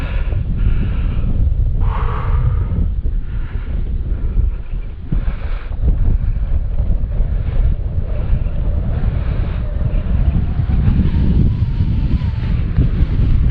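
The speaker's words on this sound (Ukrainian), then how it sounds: "Вітер просто скажений." Loud, roaring mountain wind buffeting the microphone nonstop, heavy low rumble with gusts surging throughout.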